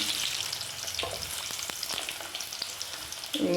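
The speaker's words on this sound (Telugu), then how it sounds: "ఇప్పుడు ఆయిల్ వేడెక్కింది ఇందులో ఉల్లిపాయలు వేయాలి" Onions dropped into hot oil for a boti dish, frying with a continuous bright crackling sizzle close by, with several light spatula taps, no voices.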